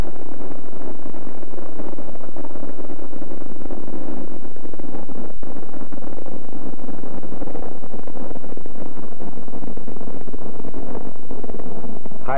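Apollo Saturn V rocket engines at liftoff produce a sustained, loud, broadband roar with buffeting rumble throughout, with no voices.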